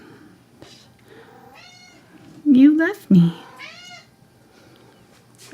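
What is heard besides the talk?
pet cat meowing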